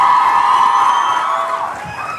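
A live audience at an Ethiopian music show cheers and whoops loudly, a sustained bright crowd roar that fades slightly toward the end.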